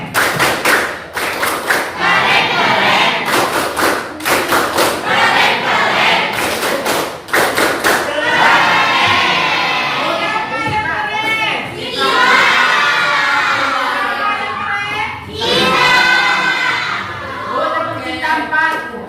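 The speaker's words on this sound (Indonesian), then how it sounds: "Oke, tepuk keren." A high school chemistry class performs a rhythmic clap cheer: a burst of sharp, evenly spaced group claps gives way to loud children shouting and cheering in chorus, with a final clap accent, all close and filling the room.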